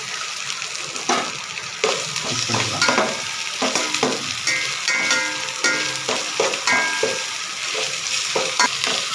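Onions frying together with homemade ginger garlic paste in a pan for a mushroom gravy, a dense continuous sizzle broken by repeated scraping stirs, loud and close, with no voices.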